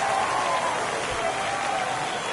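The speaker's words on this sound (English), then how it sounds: "This crowd back alive." A stadium crowd in the baseball video game MLB The Show 23 roars and applauds after a home run, a dense, sustained wash of cheering noise that stays loud throughout.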